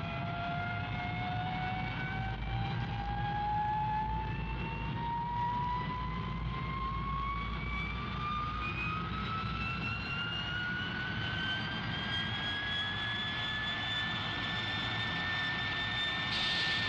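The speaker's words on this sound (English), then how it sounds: "In Lanarkshire, the jet engine age has come to stay." A jet engine runs steadily at a Lanarkshire site, a loud continuous roar with a whine that climbs slowly in pitch throughout, over a broad low rumble.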